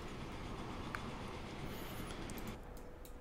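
A steady, broad rumble of a train rolling along in the video game Transport Fever 2, continuous and fairly loud, with a brief high squeal partway through; no voices.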